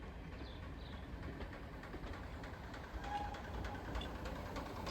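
Faint, distant rumble of a heritage train running on a GWR line near Plymouth, with a Ruston and Hornsby shunter built in 1961 at the rear, a steady low engine drone with light rail clatter.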